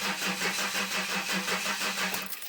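A Ford Granada with a flat battery starts up, its engine catching and settling into a steady, pulsing idle, close and fairly loud with no voices.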